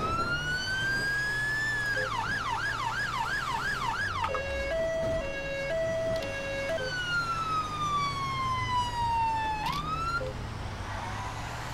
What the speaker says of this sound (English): Yeah, they are nice sirens. Very clear and crisp.